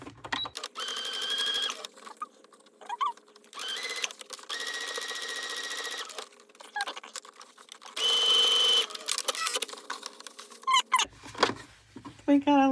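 A sewing machine stitches quarter-inch seams on a pumpkin-in-a-star quilt block in several close, steady whirring bursts separated by pauses, with brief clicks and handling noise between runs.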